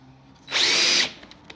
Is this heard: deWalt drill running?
yes